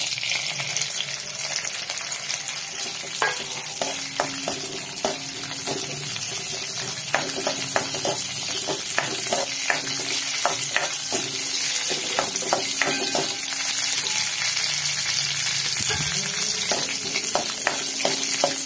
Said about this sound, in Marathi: हे सगळे मी फ्राय करून घेते आधी।